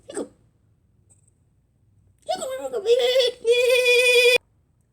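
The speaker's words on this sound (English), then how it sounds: "He still has hiccups, and they're probably not gonna get cured." Cartoon character in a Plants vs. Zombies animated episode hiccuping, one sharp hiccup followed after a pause by voiced squeaky vocal sounds that end abruptly, loud and close.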